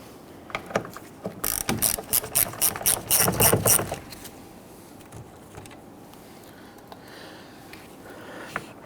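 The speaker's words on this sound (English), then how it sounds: "I'm going to use my 1/4" ratchet. I'm going to loosen and remove the two lower ones first." A 1/4 inch ratchet loosens 10mm side mirror bolts on a 2011-2015 Kia Sorento, making close, rapid bursts of clicking pawl ticks in the first half, then fading to quiet with a few stray clicks.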